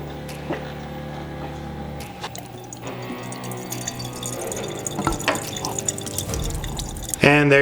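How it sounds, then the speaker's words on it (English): Hot water drains from a homebrew wort chiller into a kitchen sink, a steady running and splashing trickle with occasional drips and clatter, heard close under light background noise. "the hot water is draining over here, which just goes back into the kitchen sink"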